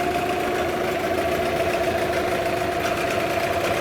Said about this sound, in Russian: Мотор работает в своем температурном режиме.